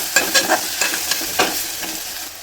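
A spice mixture of cumin, garlic, coriander and ginger sizzles loudly in a pan while a spoon stirs it, giving several quick scraping strokes over a continuous crackling fry.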